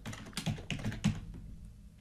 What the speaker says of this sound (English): typing the domain name and then the password